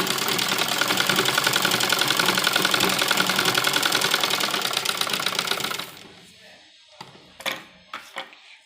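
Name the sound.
sewing machine stitching buckram edge of dupatta suit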